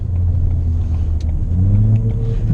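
Steady low engine rumble from a Ford Fiesta Titanium with a dual-clutch transmission while driving, a constant loud hum inside the cabin with faint road noise and no talk.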